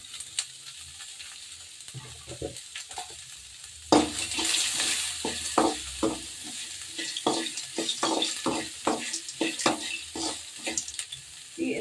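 Onions and green chilies fry in a pan for shavige uppittu, a soft hiss at first that swells into loud sizzling, with repeated scraping stirs of the spatula throughout and no talk.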